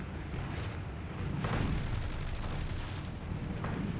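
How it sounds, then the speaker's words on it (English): Machine guns on a BF-109G2 fighter fire rapidly in the War Thunder game, a dense, loud roaring burst of gunfire layered over engine drone, with a brief sharper swell near the middle. "these machine guns are very, very rapid firing"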